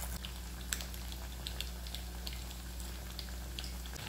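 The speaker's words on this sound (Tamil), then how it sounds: "நல்லா ஆயில் நல்லா ஹீட் ஆயாச்சு சிக்கன் பீஸ் எடுத்து வச்சிடலாம்" Chicken pieces fry in well-heated oil for chilli chicken, a steady close crackle with scattered sharp pops over a low hum and no talk.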